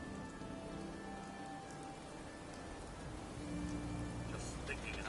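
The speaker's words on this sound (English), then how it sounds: "Just thinking how wonderful it would be to get out of this infernal rain." Rain falling in Fallout 4, a steady patter of raindrops on surfaces that grows slightly heavier toward the end, with faint speech in the background.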